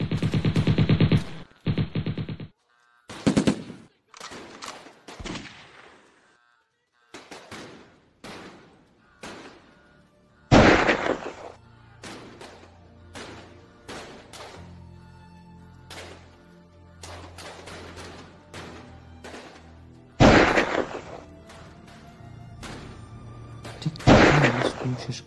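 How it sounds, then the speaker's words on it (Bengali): Staged gunfire in a stage play rings out in sharp single shots and rapid machine-gun bursts, separated by silent gaps, loud and close. "তখন ইউএস আর্মি এবং আইসিস সদস্যদের মধ্যে গোলাগুলি শুরু হয়ে যায়।"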